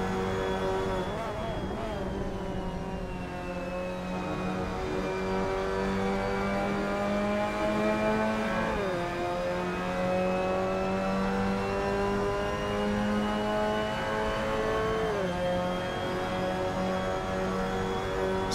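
Mazda MX-5 Cup race cars in a sim racing game at Donington Park, engines droning steadily with rising and falling revs through gear changes, sustained and moderately loud, with no voices over them.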